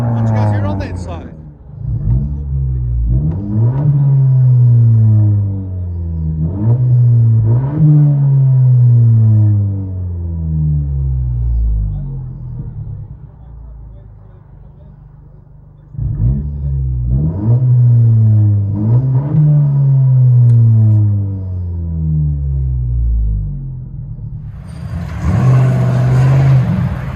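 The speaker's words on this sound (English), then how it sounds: "Honda Civic Sport. Again. Let you guys hear it on the inside." Honda Civic Sport engine revving from inside the cabin in two long bursts, each climbing and falling in pitch as the throttle rises, with loud droning tone; a brief burst of noise near the end.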